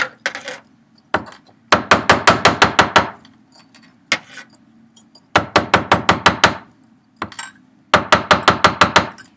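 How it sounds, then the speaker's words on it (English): Annealed wire is hammered flat on a hard surface in quick bursts of sharp, ringing metallic strikes, five to eight blows per burst with brief pauses between, loud and close with no talking. "So I'm going to go back in and hammer that."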